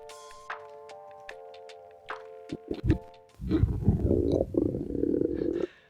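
Muffled, low gurgling stomach rumble, preceded by scattered plinks and tonal pings, swelling into a churning growl that cuts off abruptly.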